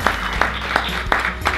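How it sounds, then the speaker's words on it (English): Audience applause at a faith-based women's entrepreneur conference, a steady wash of clapping with sharp accents roughly every third of a second, close and continuous through the short stretch. "So I just want you to give my mommy another round of applause."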